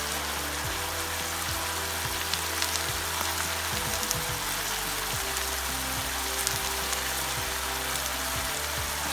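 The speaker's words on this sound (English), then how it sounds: "Now sauces is cooking and sizzling." Continuous crackling sizzle of sauce frying in a hot pan for Thai fried rice, close and steady, with faint stirring and no voices.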